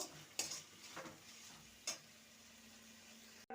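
Bottle gourd curry with grated coconut is stirred in a pan, a spoon scraping in a few distinct strokes over a faint steady sizzle, fairly quiet and close, with no one speaking.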